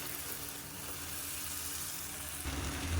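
Tomato paste with masala sizzles in hot oil for a mushroom tomato curry, a steady close hiss with no talk that swells louder near the end.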